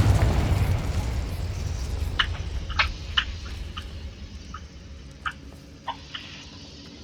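Confringo and Incendio spells in the Hogwarts Legacy video game set off a big rumbling explosion that fades, followed by a scatter of sharp crackles and small pops.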